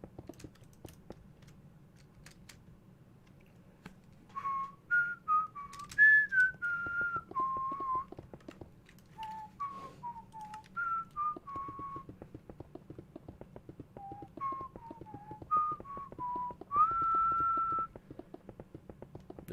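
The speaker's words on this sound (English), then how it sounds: "Can you imagine I whistle those notes correctly to the point where I get copyright striked?" A person whistles a wandering, melodic tune in short phrases over a steady low hum and faint clicking keys during a Minecraft building session; the whistling is fairly close and clear, with brief pauses between phrases.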